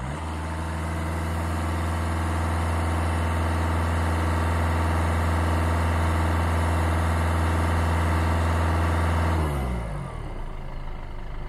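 A car engine held at raised RPM during a battery analyzer load test, a steady loud drone with strong harmonic hum that runs unbroken for about nine seconds, then drops sharply as the revs fall back to idle.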